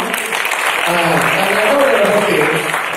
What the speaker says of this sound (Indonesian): Oke, kasih aplaus semua.